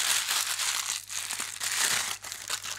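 A sheet of baking paper is scrunched up by hand in a kitchen, a close, continuous crinkling and crackling that comes in bursts with brief pauses and no speech.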